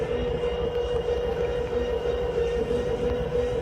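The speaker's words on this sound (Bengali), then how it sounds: "তো এখন আমি ট্রেন একদম ছেড়ে দিয়েছি।" A train pulling away in the Train Simulator Bangladesh game, with a steady engine drone and a sustained low rumble under a strong mid tone, continuous and fairly loud with no talking.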